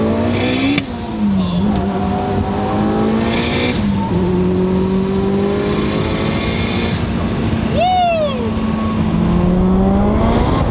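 Fast Mitsubishi Evo with boost-by-gear tuning accelerating hard, its engine note climbing through several gears with sharp shifts in between, loud and close, with a quick whistling sweep late on.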